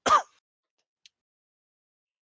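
A single short, fairly loud throat-clearing or cough from a player during a tabletop role-playing session, followed by a faint tiny click and then silence.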